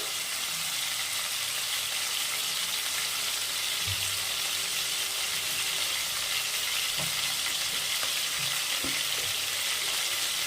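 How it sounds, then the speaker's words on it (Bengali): Dried red chili and nigella seeds sizzle in hot oil in a pan while a papaya and prawn curry cooks, a steady, close, continuous crackling hiss broken by a few soft stirring knocks, with no voices. "এবার আমি এখানটায় একটু ফাঁকা করে একটা শুকনো লঙ্কা, একটু কালো জিরে"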